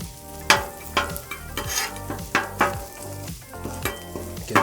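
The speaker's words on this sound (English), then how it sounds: "Give it a stir." Spiced quesadilla filling sizzles in a pan while being stirred, a rhythmic series of scraping and clattering strokes over a steady frying hiss, close with no voices.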